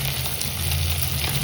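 Fish frying in hot oil in a home kitchen pan, a steady close sizzle with a low hum throughout, no voices.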